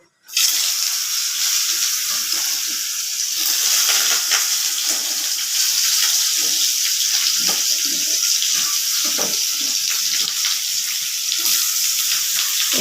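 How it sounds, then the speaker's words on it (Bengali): Steady, dense sizzling and crackling of potatoes and pointed gourd frying in hot oil, loud and continuous throughout with no talking. "তেলটা গরম হয়ে গেছে এখন আমি পটল আলুটা"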